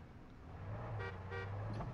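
A vehicle horn in the Far Cry 6 video game gives two short toots close by over a low engine hum.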